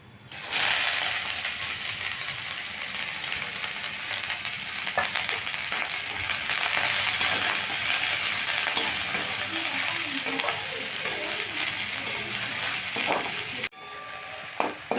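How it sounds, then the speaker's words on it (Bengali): Chopped onion and green chillies fry in hot oil for a Bengali potato posto dish, a loud steady sizzle with scraping stirs and ratcheting spoon clicks against the pan, no talking. "তেলটা একটু গরম করে নিয়েছি এবার এই কেটে রাখা পেঁয়াজ আর কাঁচা লঙ্কা আমি দিয়ে দিচ্ছি"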